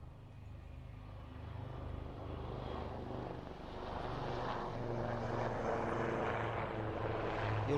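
A Royal Navy Wildcat helicopter flies an airshow display at RAF Waddington alongside a wingman aircraft, its engine and rotor drone steady and distant, slowly swelling louder over the pass.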